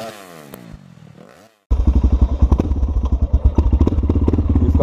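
Yamaha XT600E motorcycle with a loud aftermarket exhaust, first idling briefly, then cutting out and roaring back in a series of close, punchy throttle blips and revs with popping clatter.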